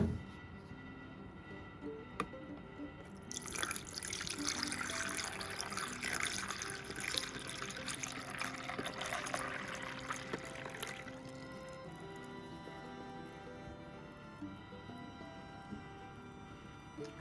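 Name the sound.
bottled water poured into coffee machine reservoir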